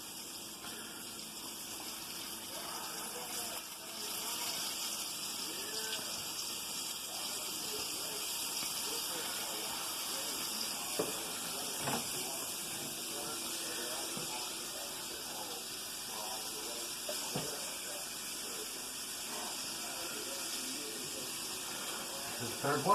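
Food fries submerged in hot oil, a steady quiet sizzling hiss with scattered soft pops and crackles running throughout.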